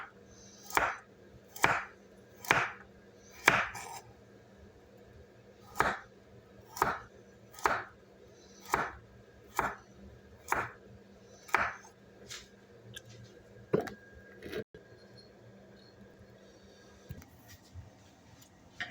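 Chicken sliced thin with a knife on a cutting board: about fifteen crisp, evenly spaced chops, close and clear, slowing toward the end with no talking.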